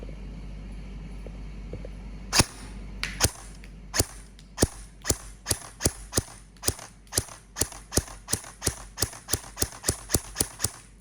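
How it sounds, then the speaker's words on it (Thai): An AKS-74N all-metal airsoft rifle fires semi-automatically, a rapid run of more than twenty sharp, evenly spaced cracks, close and loud against a quiet room. "ขออนุญาตยิงเป็นเซมิก่อนนะครับ ปรับโหมดมาที่เซมิ"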